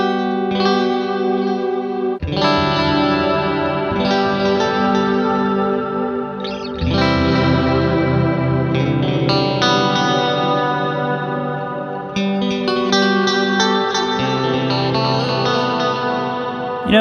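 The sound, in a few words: guitar with Line 6 DL4 MkII delay and reverb brought in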